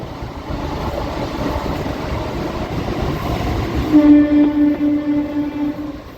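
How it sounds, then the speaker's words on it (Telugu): A goods train passes on an overhead line near Renigunta, a loud continuous rumble of wagons on the tracks, joined near the end by a sustained horn blast. "ఇప్పుడు ఆ లైన్లో గూడ్స్ ట్రైన్ వెళ్తుంది చూడండి"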